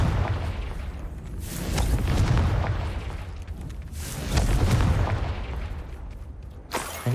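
A Confringo explosive spell bursting in Hogwarts Legacy: a few deep, rumbling booms that swell and fade, loud and alone.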